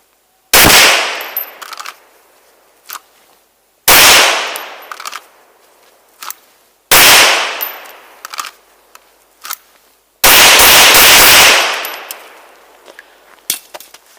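A Smith & Wesson M&P 2.0 pistol with a 5-inch barrel fired on an outdoor range, four loud sharp volleys of rapid shots, each followed by ringing decay and scattered fainter clanks.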